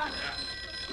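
A telephone rings briefly with a steady bright electronic tone in a 1960s police sitcom scene, heard under voices and room noise for about a second.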